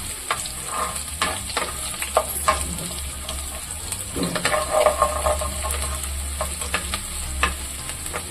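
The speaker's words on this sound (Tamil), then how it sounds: "இப்போ வந்து எண்ணெய் காஞ்சிடுச்சு. பூண்டு மெலிசா கட்டி இருக்கிற பூண்டு போட்டுக்கலாம்." Thinly sliced garlic and ginger frying in hot oil in a pan for a hotel-style paneer Manchurian, a steady close sizzle with scattered crackles and the clink of a spoon stirring, no voice.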